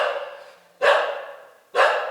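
A dog barks from inside an animal shelter in Madhya Pradesh, two loud, sharp barks spaced about a second apart, each fading into a reverberant tail from the enclosed space.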